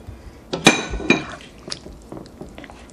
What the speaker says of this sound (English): Okay, now we're going to put back in our other ingredients.